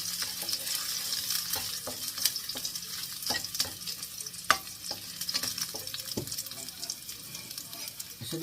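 Pork adobo with pork liver fries in a pan, a close bubbling sizzle layered with frequent sharp clicks and scrapes from stirring, and no talk.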